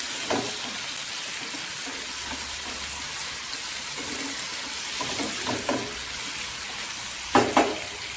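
Capsicum, tomato and onion fry in a pan for chilli paneer, a steady broadband sizzle with a few louder spatula stirs and scrapes near the end, no talking.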